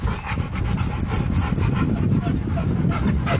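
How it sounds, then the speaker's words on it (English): An 11-month-old dog panting, whimpering and giving short yips close by, mixed with ongoing background voices and a noisy environment. "A dog right there, just 11 months, man."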